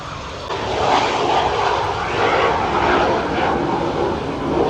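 Steady, loud warbird and jet engine roar at an airshow fills the air, a broad droning rush that swells gently without letting up.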